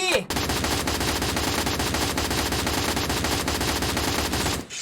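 An M4A1 rifle in the shooter game Free Fire rattles off one long, unbroken burst of very rapid, loud automatic fire that runs for several seconds before cutting off.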